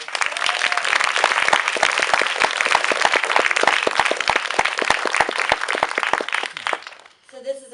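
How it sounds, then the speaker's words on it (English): Loud, sustained applause from a large crowd, dense clapping filling the air for several seconds before cutting off abruptly near the end. "A round of applause for our artists."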